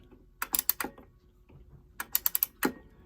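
A Westbrook Chime 31 Day clock from about 1978, under repair, is wound with a key, giving two close bursts of rapid ratcheting clicks separated by a short pause.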